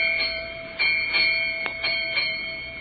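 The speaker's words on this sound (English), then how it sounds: "8 bells." A ship's bell strikes eight bells in paired rings, clear metallic strikes in a steady rhythm over a faint hum, with no voices.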